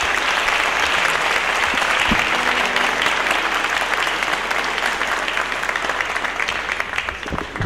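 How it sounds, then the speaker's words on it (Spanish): Sustained, dense applause from a large audience at the Holy Week proclamation event in Popayán, loud and continuous for several seconds before slowly thinning toward the end. "con un fuerte aplauso para él"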